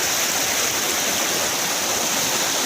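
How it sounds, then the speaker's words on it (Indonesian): Steady, loud rush of water at the Curug Cihanyawar waterfall in Cilawu, Garut, a dense, even roar filling the whole clip with no voices. "udah nyampe di wisata Curug Cihanyawar, Kecamatan Cilawu, Kabupaten Garut ya."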